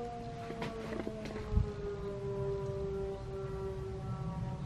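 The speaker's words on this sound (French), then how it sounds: "Il y a la sirène dehors, comment ça se fait?" An outdoor civil defense siren sounds during a monthly alarm test, its steady wailing tone carrying from a distance over faint background noise, with a brief thump partway through.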